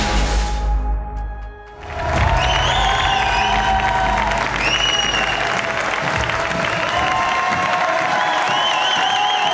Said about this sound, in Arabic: فاطمة تصفيقة